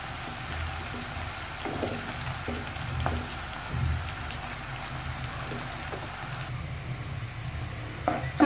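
Onions frying in a pan until nearly golden while being cooked for tikka macaroni, giving a steady sizzle with occasional stirring scrapes and clinks throughout, with no talking.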